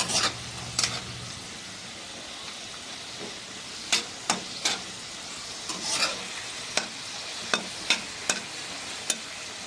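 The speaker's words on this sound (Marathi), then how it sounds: "आपले आता बटाटे पण ना भाजत दिलेले आहेत, थोडे एकदम असे लाल करूया मग छान लागतात" Potatoes fry in a pan and get stirred now and then, a steady soft sizzle broken by repeated sharp scraping clinks of the spoon against the metal, close by and with no one talking.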